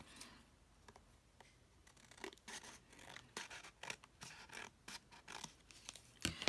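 Scissors trimming paper at close range, a run of crisp snipping and rustling cuts that grow more frequent toward the end, with no talking.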